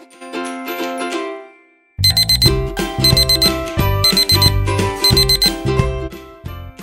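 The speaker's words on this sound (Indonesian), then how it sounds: "Matagal talaga akong magising, guys, kaya nagpapa-alarm talaga ako." A morning alarm clock ringing loud and close: a brief tone sequence, a short pause, then a repeating bright chiming melody that keeps going.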